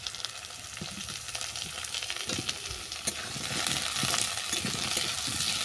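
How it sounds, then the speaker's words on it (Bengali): Sweet potato, potato, eggplant and green banana fry with browned onions in a pan for a bitter puti fish chorchori, a steady close sizzle broken by scraping, clattering stirs that grow busier toward the end. "এটাকে আমি 5-7 মিনিট ধরে ভেজে নিচ্ছি।"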